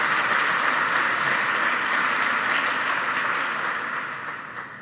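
An audience at a university ceremony for the 30th anniversary of the Erasmus programme applauds loudly and steadily in a large hall, the clapping fading slightly toward the end.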